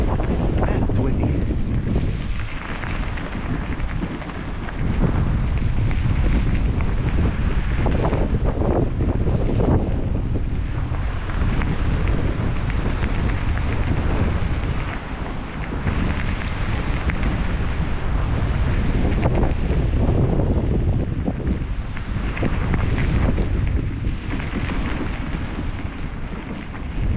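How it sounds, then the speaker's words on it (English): Strong wind buffets the microphone near a railway crossing in a continuous loud roar, surging and easing in gusts, with water sounds faintly underneath. "Man, it's windy."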